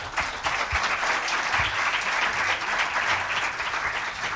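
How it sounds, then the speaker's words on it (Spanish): An audience welcomes a speaker at a formal gathering with warm, steady applause, a continuous close wash of many hands clapping for several seconds without speech. "Vamos a recibirle con un aplauso."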